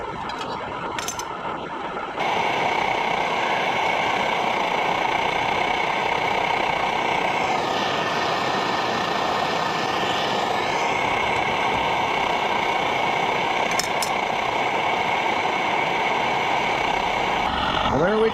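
An Optimus 99 camping stove burns liquid fuel with a steady, loud roar that runs nearly unbroken for the whole stretch, close by, with a few faint clicks and knocks over the top.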